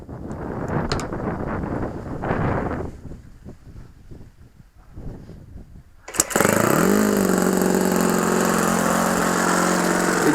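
An OS FS 70S four-stroke model engine, restored, starts abruptly after some wind and handling noise, then runs at a loud, steady, high-pitched buzz close to the microphone.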